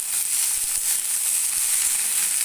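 Okra frying gently in a small amount of oil over medium heat makes a soft, even hiss, close and steady throughout.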